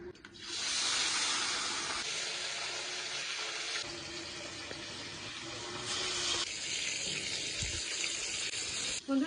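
Rui fish pieces, coated in turmeric and salt, frying in hot oil in a home kitchen, giving a steady loud hiss and sizzle that holds throughout with small swells, and no voices.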